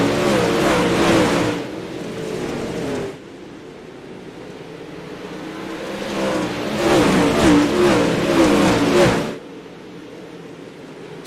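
Dirt track race car engines rev loudly in two long, roaring bursts separated by a quieter stretch of distant engine drone, with no talking.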